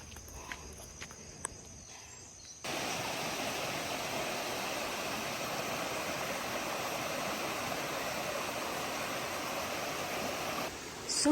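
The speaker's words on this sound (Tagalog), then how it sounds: "yung lagaslas ng tubig." Rushing water from Aliw Falls comes in abruptly after a few quiet seconds and holds as a steady broadband roar, with faint footsteps audible before it starts.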